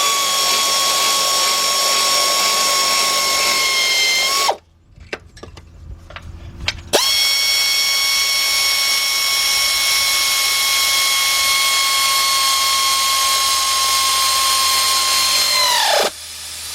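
A whining power tool, likely an air tool, spins a 13 mm deep socket on a bolt during rack and pinion work on a 2001–2005 Cadillac Deville, running in two long steady bursts with a brief quiet gap between.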